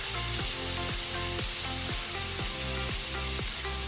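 Food sears in a hot pan with a steady broadband sizzle, loud and close, overlaid by a regular rhythmic series of tonal blips roughly every half second, with no talking.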